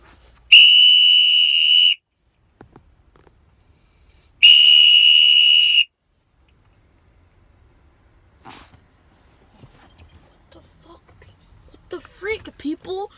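A whistle is blown out of a window, two long, piercing, steady blasts, each about a second and a half, separated by silence, followed by faint scattered noises and a short burst of speech.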